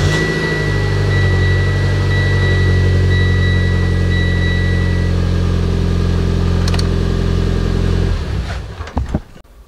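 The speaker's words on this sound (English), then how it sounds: "Let's hop in the car and show you guys kind of the rough start." A 2008-or-later Mitsubishi Lancer Evolution X on stock fuses starts rough and idles with a loud, steady, droning hum from close by, then cuts off abruptly near the end.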